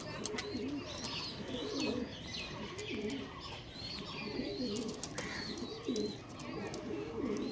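A flock of pigeons coos in soft, repeated, rolling calls throughout, with overlapping voices at moderate distance and faint chirps above, and no one talking.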